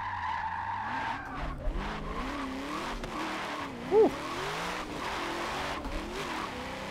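Engines whine and tires squeal continuously as two cars drift in tandem in the racing game Forza Motorsport 7, with revs rising and falling under one sharp peak, no voices.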